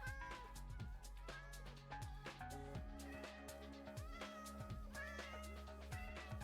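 A crowd of cats in the blocky game Minecraft keeps meowing in overlapping bursts, a dense chorus of short calls over a low droning background, faint in level.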